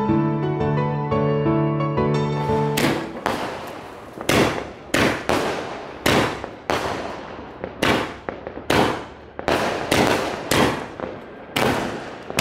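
A 240-shot firework cake explodes during Diwali, loud and close, with a run of sharp booming bursts in a steady, roughly one-per-second rhythm after an opening stretch of music.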